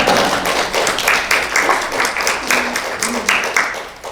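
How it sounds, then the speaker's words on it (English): Audience clapping at a poetry reading, a loose patter of hands in a small room, uneven and fairly close, swelling and thinning over a few seconds with a faint voice underneath. "You're welcome to clap."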